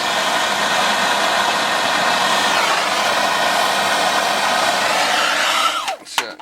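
A torch flame soldering copper pipe joints near the threads during an electric low-boy water heater replacement gives a steady, loud roaring hiss that runs unbroken, then cuts off abruptly near the end.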